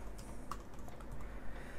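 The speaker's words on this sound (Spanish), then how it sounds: "Esto es una prueba del teclado de Sublim." Light, quick keystrokes on a Subblim compact computer keyboard tap out a short, close, fairly quiet burst of typing.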